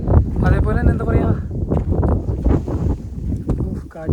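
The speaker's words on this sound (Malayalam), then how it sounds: "കാറ്റ് കാരണം പറയാനും പറ്റുന്നില്ലല്ലോ." Strong wind on a trekking hilltop roars and buffets the microphone as a low, steady rumble, with a person talking loudly over it most of the time.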